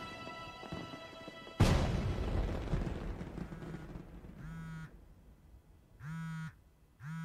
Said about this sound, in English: Ooh, fireworks show!